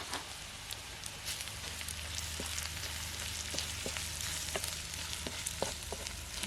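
Garlic, onion and chilli sizzling in hot oil in a pan for a Kathiawadi village dish, a soft continuous fry with scattered crackling pops and occasional stirring clicks, close but fairly quiet.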